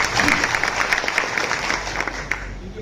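An audience at a Odia kirtan performance claps in a dense, sustained burst of applause, loud and continuous across the whole stretch, with a voice faintly mixed in.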